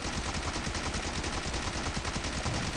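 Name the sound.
PP Bison submachine gun firing in PUBG Mobile video game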